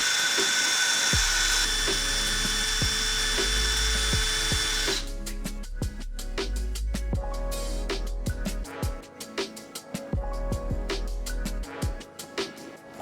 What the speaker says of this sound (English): Using my power drill helped me clean up these bolts a treat.